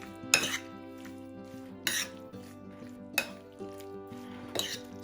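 Seasonings are mixed into beef in a bowl for a stir fry, with four distinct clinks and scrapes of a utensil against the dish between quieter stirring.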